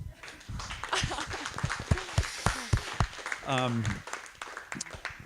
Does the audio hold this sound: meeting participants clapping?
yes